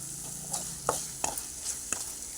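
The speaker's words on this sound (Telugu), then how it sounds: "ఉప్పు వేసి బాగా కలుపుదామండి" A spoon stirs a fenugreek leaf and tomato curry in a pan just after salt goes in, giving a few scraping strokes over a soft, continuous sizzle, close and quiet.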